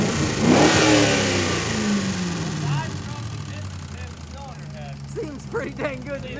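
Car engine with a suspected head gasket compression leak into the coolant, patched with JB Weld, revs hard then settles into a strong running drone, with voices talking over it near the end.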